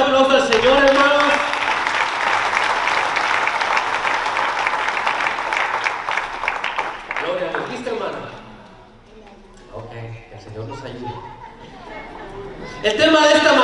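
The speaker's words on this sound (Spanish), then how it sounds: "Den un fuerte aplauso al Señor, hermanos." A church congregation gives a loud, sustained round of applause to the Lord, many hands clapping for about seven seconds before fading into murmured chatter and someone speaking, with a brief burst of clapping returning at the end.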